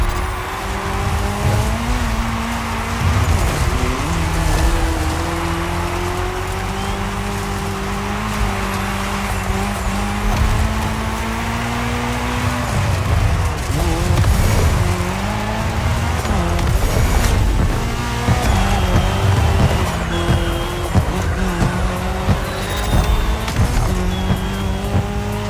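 Race cars from the game The Crew Motorfest tearing along tarmac in a cross-terrain race, loud engines revving and shifting with repeated tire squeals and skids, close and continuous, no one talking.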